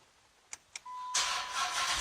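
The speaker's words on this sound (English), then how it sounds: "and then you start your car" A 2010 Dodge Challenger SRT8 with the 6.1L Hemi turns over after two short chimes and fires into a loud, steady idle, close by.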